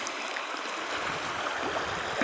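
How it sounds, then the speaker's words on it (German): Water flowing beside a reservoir in winter, a steady broadband rush without pauses, fairly close and moderately loud, with no voices. "Jetzt sehen wir schön, wie das Wasser hier fließt"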